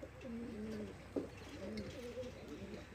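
Teddy pigeons coo softly nearby in repeated rolling phrases, with a brief sharp knock partway through and a faint steady background.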